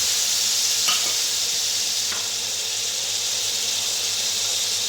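Chopped tomatoes and rice with chana dal frying in a pan, a steady close sizzle and hiss with two faint scraping stirs.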